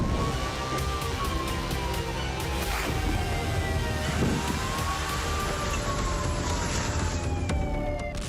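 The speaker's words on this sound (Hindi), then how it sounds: "शहरों में सायरन बज रहे हैं।" Air raid sirens wail across a city during wartime, several overlapping rising and falling tones sounding continuously at a distance over a steady background rumble, with no speech.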